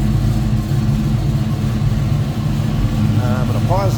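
A 1966 Ford Mustang with a 289 V8, headers and Flowmaster mufflers idles loudly and steadily up close, a deep throbbing exhaust rumble, with a brief voice near the end.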